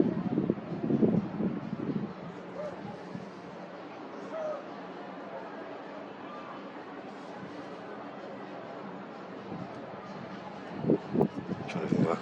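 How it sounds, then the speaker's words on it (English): Wind gusting against a microphone outdoors at night, a steady low rumbling buffet throughout with brief louder thumps near the start and end, and a dog barking in the distance. "even the wind's affecting down here as well"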